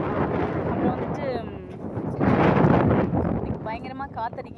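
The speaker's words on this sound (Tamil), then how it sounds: "இன்னைக்கு பயங்கரமாக காற்றடிக்கி, மழை வேறு பயங்கரமாக பெஞ்சிட்டே இருக்கா" Strong wind buffets the microphone in loud, rushing gusts during heavy rain at the Isha centre in Coimbatore, with brief snatches of voices breaking through.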